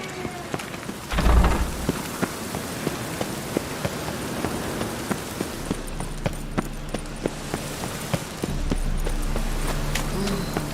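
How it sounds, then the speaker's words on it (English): Steady rain falls in a game world from The Witcher 3: Hearts of Stone, a dense patter of drops on surfaces with regular clopping hoofbeats and a brief thud, swelling slightly louder near the end. "Rain was coming."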